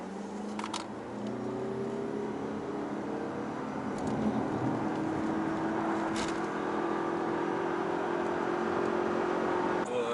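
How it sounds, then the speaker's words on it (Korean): Lexus UX hybrid small SUV pulling away from a standstill, with a steady engine and motor drone rising gradually in pitch over about ten seconds, heard from inside the cabin with a few faint clicks. "가속 제로백을 간단하게 느껴보는데 조금 시간은 걸리는 듯 합니다"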